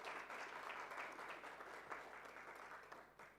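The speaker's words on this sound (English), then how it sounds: "Please give them a big round of applause." Audience applause at a UNWTO regional conference session in Namibia, a dense continuous wash of clapping that stays fairly even and fades slightly toward the end, with no voices.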